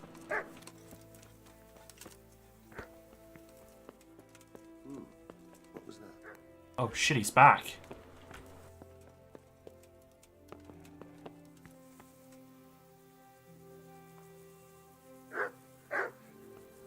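A dog barks in the medieval role-playing game Kingdom Come: Deliverance, giving a few sharp bursts near the middle and again toward the end while someone talks over sparse game ambience.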